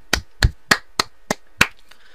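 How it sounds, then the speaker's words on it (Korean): A handful of sharp, close hand claps, about six in just over two seconds at an uneven pace, each one crisp and alone against near silence, with no talking. "박수."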